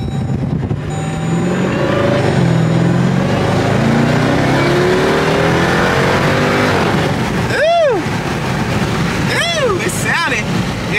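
Supercharged-sounding Jeep Trackhawk, bought at a salvage auction with its tire pressure warning on, revs its engine loudly and near: a long rising and falling drone, then two sharp, quick rev blips toward the end.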